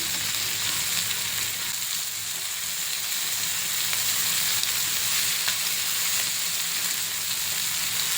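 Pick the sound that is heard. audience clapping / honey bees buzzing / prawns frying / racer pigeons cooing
prawns frying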